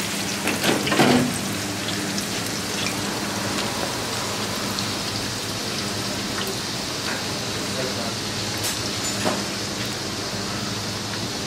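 Garlic shrimp fries in a pan with a steady, loud hiss like rain, and a burst of stirring clatter comes near the start. A voice talks intermittently over the sizzle.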